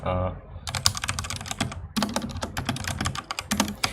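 Rapid computer keyboard typing during a C++ programming session, with dense clattering bursts of keystrokes close up, broken by brief pauses; a short voiced sound opens before the keys start.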